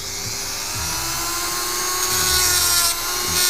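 A Dremel rotary tool grinds down metal parts on a 1961 VW Beetle, giving a loud, continuous high-pitched whine close up that varies slightly in pitch as the bit bears on the work.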